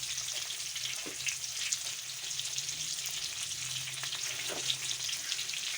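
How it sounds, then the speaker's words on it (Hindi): Raw cauliflower frying in oil over medium heat, giving a steady close sizzle that runs throughout with a couple of faint stirring scrapes and no talking. "इसको फ्राई कर लेंगे। दरमियानी आंच पे रखिएगा,"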